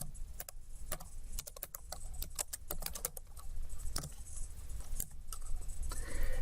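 Someone types on a computer keyboard, filling a caller field in a ServiceNow incident form. The keystrokes come as a fast, uneven run of close, crisp clicks, alone, with brief pauses between bursts.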